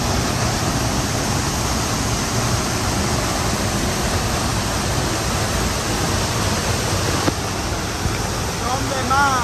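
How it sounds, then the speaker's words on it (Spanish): A waterfall heard from inside the falls gives a loud, steady, broadband roar of rushing water that fills the whole stretch, with a faint voice near the end. "Dentro de la cascada."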